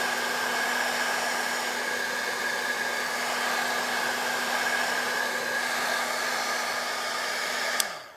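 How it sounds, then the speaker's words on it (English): Handheld heat tool blowing steadily to dry soft pastel artwork, a loud continuous whooshing roar with a steady motor whine, running unbroken up close before clicking off at the end, with no talking. "And I'm going to take my heat tool"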